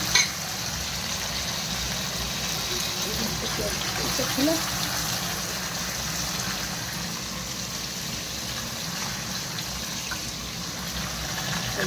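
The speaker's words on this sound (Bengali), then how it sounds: "মাছগুলো ভাজা হোক।" Steady sizzling of fish frying in hot oil, a constant crackling hiss with occasional spatters, continuing evenly throughout.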